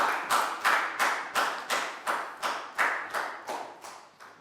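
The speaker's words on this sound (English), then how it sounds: "High five and a big round of applause for Pangpon" A single person clapping steadily, about a dozen even, crisp claps in a regular rhythm, close and moderately loud, as a round of applause for a student in a Year 4 maths lesson.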